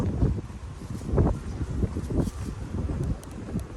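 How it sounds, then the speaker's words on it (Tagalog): Strong wind buffets the microphone in a constant low rumbling roar, swelling in uneven gusts. "Malakas ang hangin."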